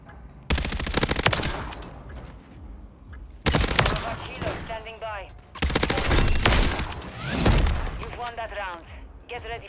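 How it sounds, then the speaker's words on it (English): SMG gunfire in a multiplayer shooter, long rapid automatic bursts that are loud and close, broken by short pauses, with chirping game effects between volleys. "This SMG is insane."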